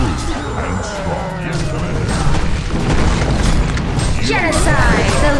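A tower being destroyed in the Heroes of Newerth battle game: loud booming crashes and rumbling debris layered with dense game effects, while a voice speaks over the din.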